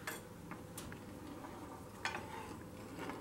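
Creamy butternut, cashew and ginger soup stirred in a pot inside a yurt, a few soft scrapes and clinks that stay faint and close over a low background hum.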